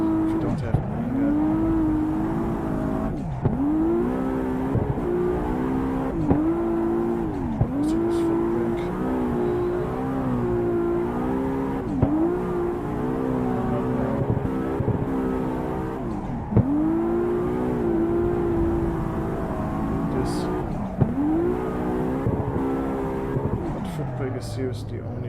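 A car drifting with e-brake slides in Assetto Corsa, its engine revving up and dropping in repeated rising and falling cycles with tire noise, while someone talks over it throughout.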